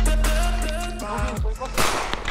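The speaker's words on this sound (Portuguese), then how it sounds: "Tão disparando aqui." Gunfire crackles during a video game shootout, a few sharp pops and bursts over a busy, noisy game mix with a low rumble.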